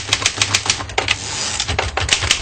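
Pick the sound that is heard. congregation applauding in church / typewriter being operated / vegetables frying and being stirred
typewriter being operated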